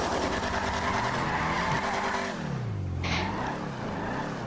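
Car skidding and crashing in a video game, a loud continuous engine roar with sweeping tire screech that dips and wavers, then a brief sharp impact burst near the end.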